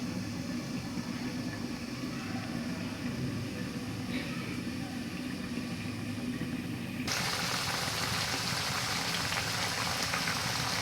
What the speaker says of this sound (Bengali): মাছের মাথাটা একটু ভালো করে কষাই নিতে হইব